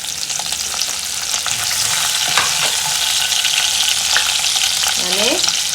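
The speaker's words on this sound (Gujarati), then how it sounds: "તેલ ગરમ થઈ ગયું છે તો આપણે જીરું નાખીશું, લીલા મરચા નાખીશું" Cumin, green chillies and curry leaves hitting hot oil in a pan, a loud steady sizzle and crackle with a few sharp pops and a brief squeal of stirring near the end.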